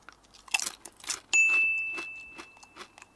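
Sharp, close crunches of teeth biting into a store-bought Dorito corn chip, several crisp bites and chews in quick succession, with a brief electronic tone sounding partway through.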